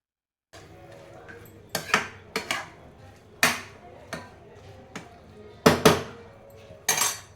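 A spoon clanks and scrapes against a pan while an eggplant stir-fry is mixed, giving a series of irregular metallic knocks, some sharp and loud, over low background noise.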